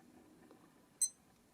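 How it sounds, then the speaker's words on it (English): A Seiko Prospex SNJ025P1 solar dive watch gives one short, high electronic beep as a button is pressed, close and clear against near silence. "then you get this audible beep"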